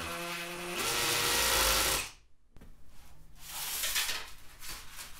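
A power drill whirs loudly for about two seconds while drilling a hole for a mini split installation in a garage, stops briefly, then runs again with a rougher, uneven grinding tone.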